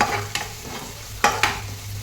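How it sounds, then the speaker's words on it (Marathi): Ginger garlic paste frying in hot oil, a close sizzle with a few quick scraping stir strokes against the pan. "थोडंसं आलं लसूण असं परतलं कणी तेलामध्ये"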